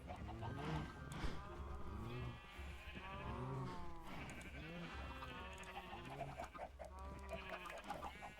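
Sheep bleat repeatedly in a video game sheep pen, wavering bleats overlapping one another alongside clucking fowl, steady and fairly close throughout.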